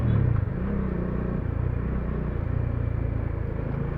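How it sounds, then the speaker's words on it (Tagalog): Rush-hour road traffic on the C5 road, with cars and motorcycles moving together. It makes a steady, dense low rumble of engines, and revving rises now and then. The sound is continuous and fairly loud, with no talking. "Rush hour traffic."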